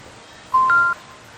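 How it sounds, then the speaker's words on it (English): Smartphone notification from the Blynk plant-watering app: a single short two-tone electronic beep, clear and close, lasting under half a second against quiet background hiss. "This is the notification."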